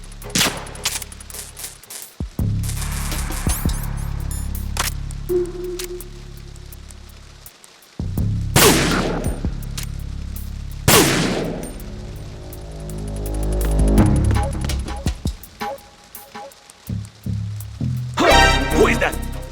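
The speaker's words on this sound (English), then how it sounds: "So you can shoot out a guard's radio, causing it to fail, meaning that he can't call in backup" Gunfire in the Metal Gear Solid stealth game, several sharp shots and bursts cutting through a busy mix of game sounds and background music, followed by crackly, broken radio-static noise near the end.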